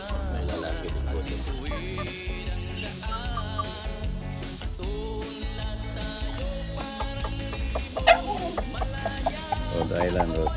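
Rhode Island chickens clucking and calling in a yard, a busy mix of close clucks and squawks from several birds, with occasional voices mixed in.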